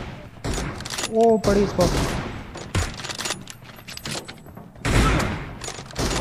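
Bursts of gunfire in the PUBG Mobile video game, rapid loud volleys and single shots scattered through the clip, with a player's voice talking briefly in between.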